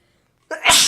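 A single loud sneeze bursts out after a moment of near silence, close and sharp.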